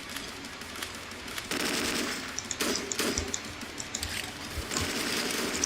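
Rapid machine-gun fire in the Slendytubbies multiplayer video game, dense crackling bursts with sharp individual shots, steady and fairly loud throughout with no talk.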